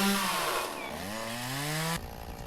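In the video game Lumberjack's Dynasty, a chainsaw cuts through shrubs, its engine whining and shifting pitch steadily up before cutting off abruptly, leaving a quieter idle.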